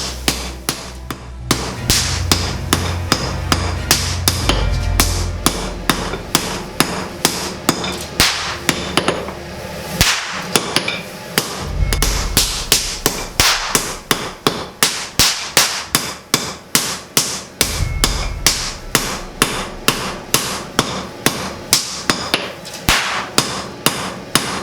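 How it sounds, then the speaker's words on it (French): A hammer forge-welds layers of white-hot steel, heated in a coal forge, for Japanese kitchen knives. The blows are loud, sharp and rapid, ringing in a steady rhythm throughout, with no talking. "permet de réaliser les soudures au marteau des tranches d'acier chauffées à blanc dans les forges à charbon"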